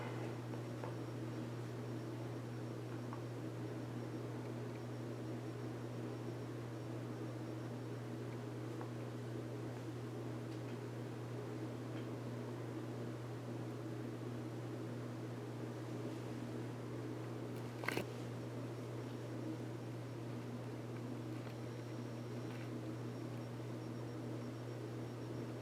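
A 42-inch ceiling fan runs with a shaking motor, giving a steady low hum and a constant airy whoosh, with one brief knock partway through.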